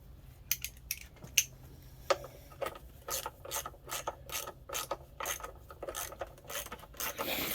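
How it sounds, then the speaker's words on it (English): A ratchet wrench turns bolts on a Suzuki DS/TC/TS two-stroke motorcycle, giving repeated bursts of fast, close metallic clicking in a steady rhythm that lasts several seconds with no talking. "Now I'll get a ratchet."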